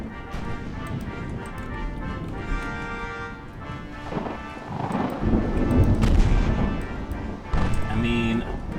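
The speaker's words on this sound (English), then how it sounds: "you took 2 torpedo hits, only 300 damage" Naval warship combat in the Ultimate Admiral Dreadnoughts game: muffled booming impacts and rumbling explosions from torpedo hits on a ship, over steady ticking and background battle noise.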